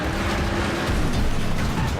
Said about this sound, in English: we just got involved in a really nasty wreck.